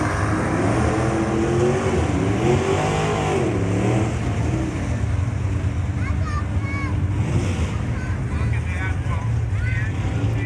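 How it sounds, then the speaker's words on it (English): A 1966 Chevelle muscle car on bias-ply tires launching down a drag strip against a 1973 Z28, a loud sustained engine roar that climbs in pitch as it accelerates, with crowd and announcer noise around it. "Watch this Chevelle lay it down."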